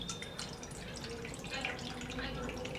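Spiced pani puri water strains through into a jar, a faint continuous trickle and patter of drips heard close by, without talk.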